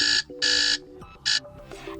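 A bright alarm melody called Butter plays from a NAVITEL T787 4G tablet speaker: repeating loud tonal bursts over a softer tune, clear and close with no talking.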